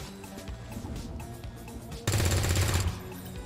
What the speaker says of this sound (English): I'm gonna fire at the sectoid.